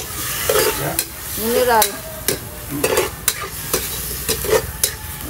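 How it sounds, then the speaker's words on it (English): Chicken frying and sizzling in a pan in a rural provincial kitchen, with steady crackle broken by sharp stirring clatters and short bursts of nearby talk. "I cook first the chicken."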